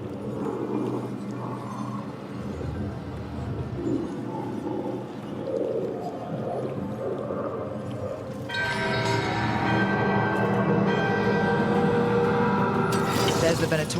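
Ringing bell tones swell and layer into a dense metallic chime as a bell wakes during a ritual in Dragon Age: The Veilguard, rising out of an ambient game soundscape with muffled voices beneath.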